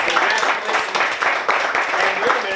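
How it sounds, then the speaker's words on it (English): An audience claps steadily at a small entrepreneurship center gathering, a dense patter of hands close by with voices mixed in throughout. "Let's clap for Sam."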